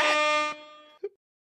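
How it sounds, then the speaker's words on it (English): A loud air horn blast, a bright harmonic tone held for about half a second and then cut off, followed by a short faint low thump. "I am all about the air horn."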